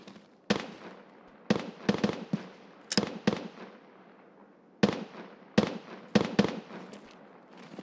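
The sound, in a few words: gunshots in video game Escape from Tarkov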